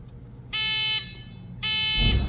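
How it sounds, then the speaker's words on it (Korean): A continuity-test buzzer clipped across a 110 punch-down block sounds twice, two loud, close electronic buzzes of about half a second each, separated by a brief pause. "위아래로 부저를 물리고 이 뒤에가 연결이 되면 소리가 나는 거죠"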